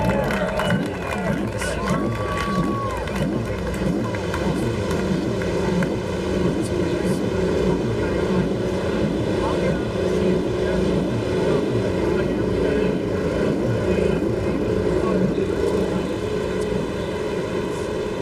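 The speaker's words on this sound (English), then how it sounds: "Drivers, start your engines!" IndyCar race car engines fire up at the St. Petersburg Grand Prix street circuit, a layered, steady drone of several motors under crowd noise, while a commentator talks over the engines.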